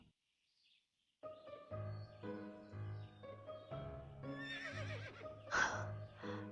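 A horse neighs in the video game To The Moon, a brief whinny near the end, set over steady, tonal game music that begins after a moment of silence.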